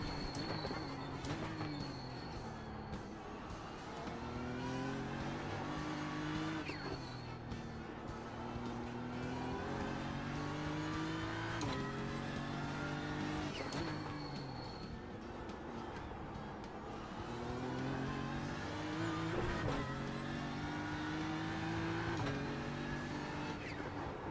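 Several race car engines drone and shift through gears in a racing simulator game, the pitch rising and dropping repeatedly in a steady, loud mix with no voices.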